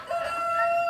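A backyard rooster crows once in a single sustained, loud call with a drawn-out tone, close by and with no talk over it.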